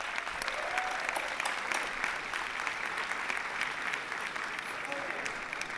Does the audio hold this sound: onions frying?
no